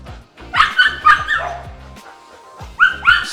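A dog whimpers and yips, then lets out a few short barks, close and fairly loud, with a pause before a final pair of cries.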